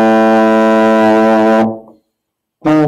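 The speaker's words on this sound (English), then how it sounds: "when I put some fingers down, the pitch is going to get lower." A euphonium holds a loud, steady brass note that drops in pitch as valves are pressed, then cuts off into silence before another note begins briefly near the end.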